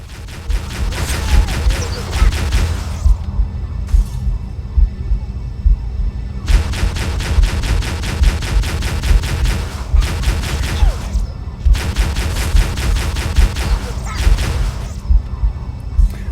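Turret gunfire in Halo rattles out in loud, heavy bursts with booming impacts, separated by short pauses and repeating close up over a low hum.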